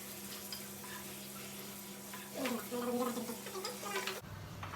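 Chicken frying in a pan gives a soft, steady sizzle with light crackling, swelling slightly midway before cutting off abruptly near the end.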